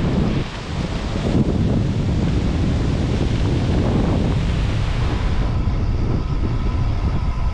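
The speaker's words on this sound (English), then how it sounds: "We've got some brutal headwinds today through Bosnia." Strong headwind roaring and buffeting across the microphone on a long-distance bike ride through Bosnia, a loud, continuous rush of wind noise with no talking.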